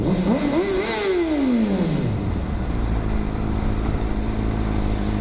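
A motorcycle engine rev bomb on a city street: a sharp, loud burst of revs that climbs and then winds down over a couple of seconds, followed by a steady idle and traffic hum, with no talking.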